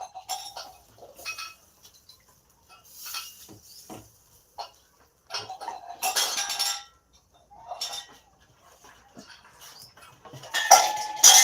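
Kitchen utensils and pots being pulled out and set down, clattering and clinking in several separate bursts with quiet gaps between, close by, some louder metallic clanks near the end.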